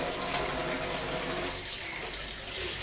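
Water runs steadily from a tap while bottle gourd leaves are washed under it, a close, continuous gushing stream that softens slightly near the end.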